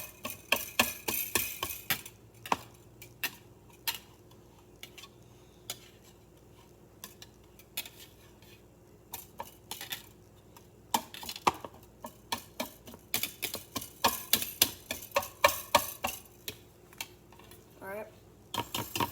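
A fork or whisk beats omelette egg mixture with cheese in a bowl, giving rapid irregular clinks and taps against the bowl in bursts, close and moderately loud, with quieter pauses between.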